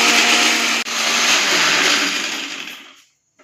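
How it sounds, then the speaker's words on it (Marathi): A kitchen mixer grinder whirs loudly as it grinds coriander, garlic and other ingredients into a paste, with a brief hitch early on before the motor winds down and stops. "हे आपण आता वाटण करून घेऊ"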